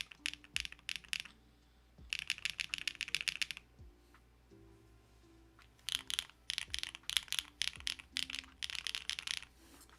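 Typing on an Omnitype Float65 mechanical keyboard: rapid bursts of crisp, close keystrokes in several flurries separated by short pauses, over a quiet background.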